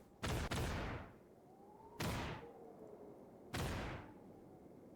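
Heavy cannon fire bombards an island in the video game Neon Odyssey: a quick double boom, then two more single booms about a second and a half apart, each loud and close with a long rumbling decay.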